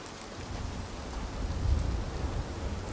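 Rain falls steadily in the Way of the Hunter video game during a thunderstorm, a soft continuous patter with a low rumbling swell in the middle, no talking.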